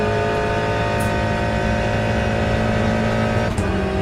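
A GT3 race car engine in the Le Mans Ultimate racing game drones loud and steady at high revs, with a brief dip near the end, like a shift.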